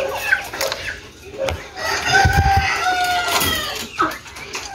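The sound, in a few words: pheasants in a cage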